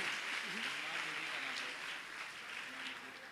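Audience applause at a Jain religious discourse gathering: a sustained, dense wash of clapping from a large crowd that runs throughout at steady loudness, with voices faintly mixed in.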